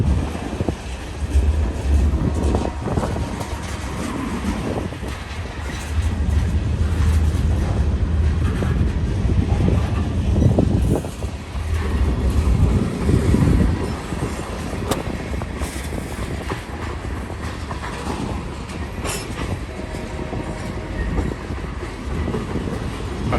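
A long freight train rumbles past close by, with a continuous heavy roll of wheels, clanks and rattles, and wind buffeting the microphone.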